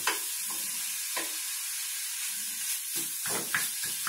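Ground meat with onion sizzles steadily in a frying pan while a utensil scrapes and stirs it in short strokes, the hiss continuous and close with no talking.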